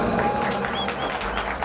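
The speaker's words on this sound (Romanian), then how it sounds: "vă rugăm aplauze!" Wedding guests applaud the bride and groom at the first dance in a continuous burst of clapping with crowd noise, while a voice talks over it.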